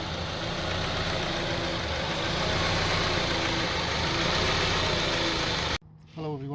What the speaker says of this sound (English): So 2002 Honda CR-V has a very rough idling and the engine stalling